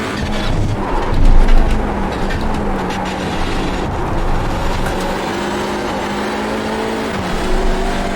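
Hyundai Elantra touring car in the iRacing sim at Silverstone, engine droning loudly and steadily with pitch shifts as the throttle is blipped and lifted, no voices.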